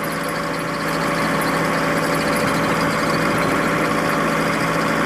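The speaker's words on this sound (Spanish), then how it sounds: "Allá viene otro vehículo y ya te corto." A vehicle engine drones steadily and fairly loud on a quiet little street near a small village, a continuous rumbling hum without breaks.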